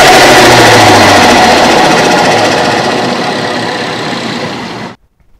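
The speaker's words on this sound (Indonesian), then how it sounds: "Proses keluarnya udara tersebut akan menimbulkan suara khas pada mesin yang menggunakan turbocharger" A turbocharged engine's blow-off valve vents air in one loud, steady rushing hiss over a low hum, easing slightly before stopping abruptly after about five seconds.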